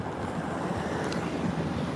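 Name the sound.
wind of a thunderstorm gust front arriving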